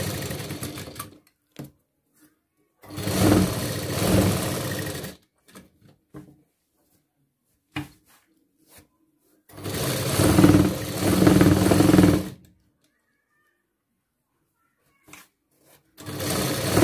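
Sewing machine running in two steady bursts of a few seconds each, close up, stitching an understitch along the lining of a round neckline, with quiet pauses between runs and a third run starting at the end.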